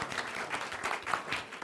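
Brief applause at a clean energy advisory committee meeting, a small group clapping in a quick, irregular patter that stays fairly even through its short length.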